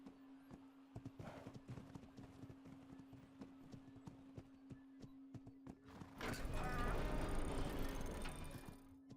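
Steady clip-clop of horse hooves at a brisk trot in a video game, with a constant hum underneath, then louder rushing noise takes over near the end.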